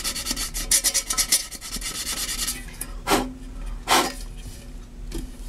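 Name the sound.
roughening tin surface before applying J B Weld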